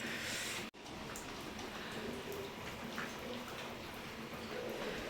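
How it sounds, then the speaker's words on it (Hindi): Dense, steady hiss of rain pouring down continuously, with a momentary dropout early on. "झमाझम वाली बारिश हो रही है।"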